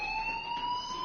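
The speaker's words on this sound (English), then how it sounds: "do you hear that fire alarm? That means you should be outside." A fire alarm in the video game Life is Strange sounds as a steady, piercing electronic tone, continuous and moderately loud over a quiet background.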